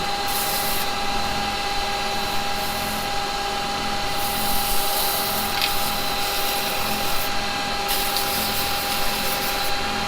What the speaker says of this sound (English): I'm only touching it with a bit of sandpaper